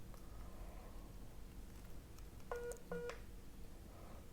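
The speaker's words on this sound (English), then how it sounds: "Sorry about that, that was my phone." A mobile phone gives two short electronic tones in quick succession, faint and a little distant against a quiet room hum, with no speech.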